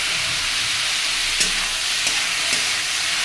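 Fish head curry with green chilli cooking in a pan, a loud, continuous close sizzle with a few brief spoon scrapes and taps as it is stirred.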